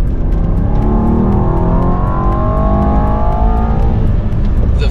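A 2024 Mercedes-AMG S63 E-Performance accelerates hard, its loud engine note climbing steadily in pitch through a long sustained pull, with a constant roar and wind rumble and no speech over it.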